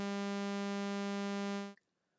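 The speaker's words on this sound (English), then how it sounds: "Here's what a sawtooth wave sounds like." A steady synthetic sawtooth wave tone, bright and buzzy with a rich harmonic edge, holding a single pitch at moderate volume for under two seconds before stopping sharply, followed by near silence.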